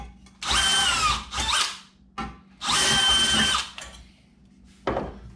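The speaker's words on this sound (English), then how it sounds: "I tried just buzzing these screws in since they are self-tappers" A power drill drives self-tapping screws into sheet metal on a Cub Cadet RZT-54 zero-turn mower: two long, whining, high-revving bursts, then a few shorter blips, all close and loud with pauses between.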